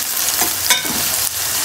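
Garlic and ginger frying with onions in a pan for keema aloo gobhi, giving a steady close sizzle with a few brief stirring scrapes and sharper crackles.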